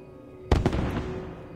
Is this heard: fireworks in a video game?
yes